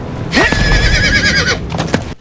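A horse whinnies loudly in a video game set in Sanctuary, one long rising and falling neigh followed by a shorter snort and a few hoof clops before it fades.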